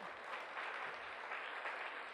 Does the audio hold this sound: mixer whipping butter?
no